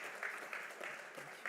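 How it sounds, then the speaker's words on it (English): An audience at a Dubai conference claps in a brief burst of applause, moderate and steady, with a bit of voice mixed in. "Audience, big Thank you round guys."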